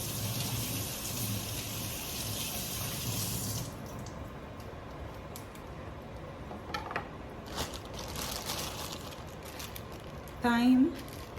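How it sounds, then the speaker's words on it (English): Running tap water pours steadily for a few seconds while scallions are washed under it, then cuts off, leaving quiet kitchen room tone with a few faint clicks and handling sounds. "scallion, just gonna wash these."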